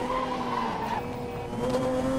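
A McLaren F1 in the racing game Need for Speed: Most Wanted skids with a loud, continuous tire squeal over a steady engine tone, filling the whole short stretch without a break.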